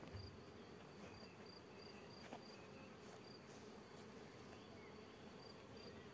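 A wild bee swarm, newly brought in from a beech tree, fills a hive with a dense, steady buzzing from many bees, heard up close and continuously with no voices.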